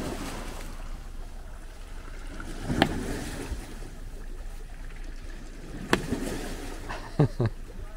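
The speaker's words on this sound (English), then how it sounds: "The waves are getting stronger." Sea waves splash against rocks and a boat at Piran, with a constant wash of surf and two sharp slaps of spray that carry over murmuring voices.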